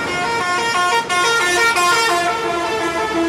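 A long-distance intercity bus blares its hydraulic horn in a loud, close, multi-tone musical blast that runs nearly continuously, with two brief breaks, over road traffic noise.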